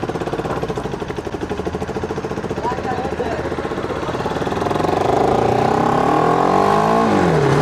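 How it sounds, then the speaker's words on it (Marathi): A motorcycle engine runs close by with a steady, throbbing firing beat that climbs into a louder rev over the last few seconds. "तर गाईस तुम्ही बाईकची फायरिंग बघू शकता कशी आहे."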